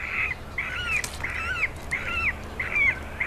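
A lakeside cormorant colony in Switzerland gives five harsh squawking calls in a steady, evenly spaced rhythm over rough background noise. The birds sound fairly close, and no one speaks.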